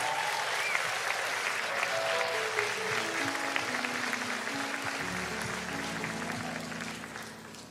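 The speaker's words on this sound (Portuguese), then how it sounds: "Você pode aplaudir Jesus" A church audience applauds steadily throughout, a dense wash of clapping from a sizable crowd heard at a moderate distance, with faint sustained musical tones entering beneath it.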